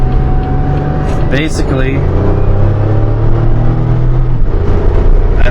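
A 2004–2008 Pontiac Grand Prix engine holds a steady, loud rumbling drone around 4,000 RPM in second gear using tap shift, heard from inside the car beneath someone speaking.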